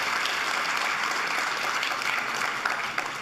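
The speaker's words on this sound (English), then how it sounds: "can you give a round of applause again for our Prime Minister, our political leader, Dr. Keith Rowley" Audience members clap for Prime Minister Dr. Keith Rowley of Trinidad and Tobago, a full, continuous burst of applause at a steady level with a few sharper claps near the end.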